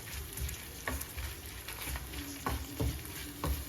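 Prawns shallow-frying in a little oil for chemmeen chammanthi give a steady close sizzle, with regular soft spatula strokes and scrapes against the pan roughly every half second.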